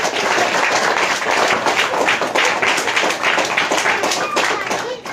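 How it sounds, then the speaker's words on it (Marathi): An audience at a Christian religious gathering claps continuously and loudly for several seconds, a dense, even wash of applause with no clear pauses. "जोरदार टाळ्या वाजा प्रभूसाठी"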